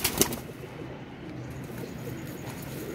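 Pigeons kept in a box, soft low cooing that rumbles faintly and close, with a brief flutter or tap near the start and quiet surroundings.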